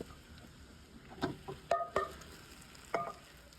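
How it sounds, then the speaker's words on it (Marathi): Soaked sago pearls are added to cooked potatoes in a pan for sabudana khichdi, heard as a few distinct soft clatters and spoon knocks against the pan over a quiet background. "आता त्याच्यात आपण घालूया साबुदाणे भिजलेले"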